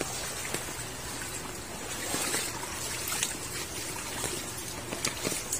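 Floodwater from a typhoon and monsoon rains flows through a street in Binakayan, Kawit, a steady broadband trickling and rushing wash that continues without a break, with faint splashes.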